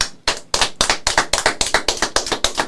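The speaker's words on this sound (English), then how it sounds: "Why did it take you so long to start clapping?" A small group applauds in a studio during a talk show with wrestling guests, the loud, close claps falling in a steady, quick rhythm with no other sound.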